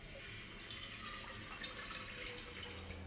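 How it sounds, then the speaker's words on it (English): Tap water runs steadily into a pot in a cluttered sink, a continuous, fairly faint rushing splash with no pauses. "After you've cleared enough debris out of the sink for a pot to fit in, fill it with water."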